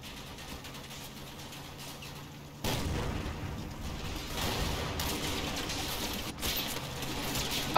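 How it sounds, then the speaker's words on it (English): Gunfire in a WWII video game firefight, a dense continuous roar of shots and rumbling explosions that jumps suddenly louder partway through and stays heavy, no voices. "A firefight quickly breaks out."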